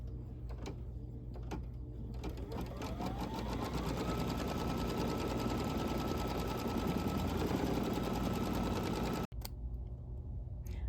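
A sewing machine tacks fabric down onto a quilt block, stitching in a rapid, steady mechanical rhythm for several seconds close by, with a brief click near the end.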